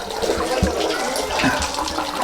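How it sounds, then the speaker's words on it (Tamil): Water flows and splashes downhill at a trekking site near Antara Gange in Kolar, a close continuous gurgling rush with small bubbling bursts. "இங்கேருந்து கீழே தண்ணி வருதுன்னு நினைக்கிறேன்."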